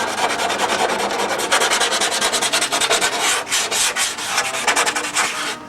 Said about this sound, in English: I'm just going to put a new piece of sandpaper on a block, and very carefully